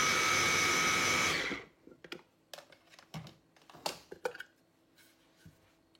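An electric blender whirs loudly and steadily while mixing a marinade for grillades, then cuts off after about a second and a half, leaving scattered clicks and light knocks nearby.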